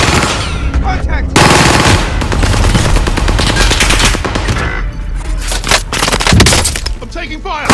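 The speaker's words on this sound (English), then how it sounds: "I'm taking fire." Rapid automatic gunfire in a Call of Duty Warzone match on the Caldera map, loud close bursts of machine-gun fire and sharp cracks with scattered single shots, mixed with game radio voices.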